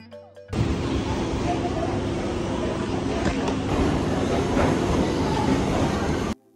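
A train rumbles and clatters steadily at Sealdah railway station in Kolkata at night, loud and continuous for several seconds before cutting off abruptly, with people talking underneath.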